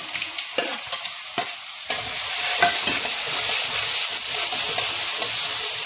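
Close, steady sizzling of cumin seeds frying in hot oil for a mixed vegetable dish, with a few crackles and spoon scrapes early on.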